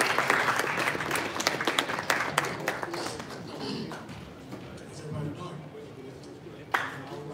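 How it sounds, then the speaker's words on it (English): A crowd at a boxing press conference claps, loud and dense at first, then thinning and fading, with a sharp single clap or knock near the end and some voices mixed in. "Give this man a big round of applause."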